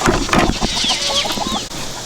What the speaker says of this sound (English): We gotta help Kaya feed these meat chickens real quick.